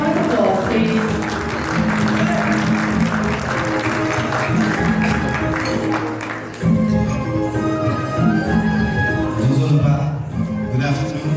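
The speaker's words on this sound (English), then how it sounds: "Let's welcome him. Big round of applause," An audience at an airline's tenth-anniversary celebration claps steadily to welcome a speaker to the stage, a loud, sustained wash of applause mixed with background music and a voice over the PA.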